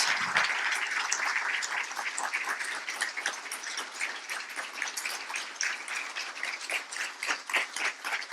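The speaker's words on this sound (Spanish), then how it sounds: "un fuerte aplauso para recibirlo" A studio audience claps to welcome a guest doctor onto an interview show, a lively crowd applause that is steady and fairly close, slowly thinning out over eight seconds.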